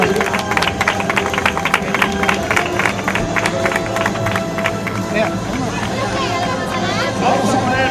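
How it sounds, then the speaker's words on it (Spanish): Crowd applause at a triathlon trophy ceremony in Seville, steady rapid clapping from a sizable gathering with hubbub and voices layered over it for the whole stretch. "¡Aplausos!"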